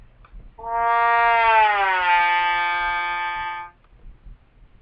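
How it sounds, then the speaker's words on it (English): A single trombone note slides smoothly downward then holds, a sustained brassy glissando lasting about three seconds, alone against a quiet background. "One of the trombone's unique characteristic sounds is the glissando."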